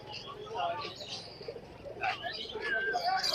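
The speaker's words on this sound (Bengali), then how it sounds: "এই যে কামাগার প্রিন্স কবুতর" Kamagar Prince pigeons coo amid the bustle of the Khalishpur pigeon market in Khulna, low murmuring calls mixed with chirps and nearby voices talking.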